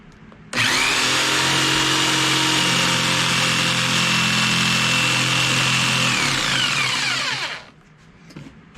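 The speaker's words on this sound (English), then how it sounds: "We'll take the jigsaw." A power jigsaw cuts through wood for a cricket cage, starting abruptly and running as a loud, steady high-pitched buzzing whine for about seven seconds before winding down and stopping.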